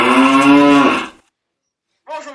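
A loud, close cow moo from a sound effect, one long drawn-out low bellow that fades into silence before a second moo begins near the end.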